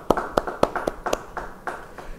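Church congregation at a Bible study clapping in a loose, fairly steady rhythm of about a dozen sharp claps that thin out and fade toward the end, no voices.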